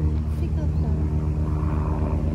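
A helicopter flying overhead gives a steady, low-pitched rotor drone throughout, with a voice talking over it.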